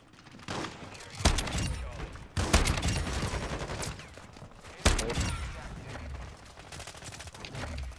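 Submachine gun fire in Call of Duty Modern Warfare II on the Shipment map, coming in several loud, dense bursts with short lulls between them and a few sharp impacts.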